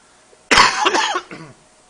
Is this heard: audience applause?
no